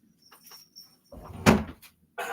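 A room door opened to let a cat out, a brief soft clunk and creak with a sharp knock in the middle, heard close in a quiet room.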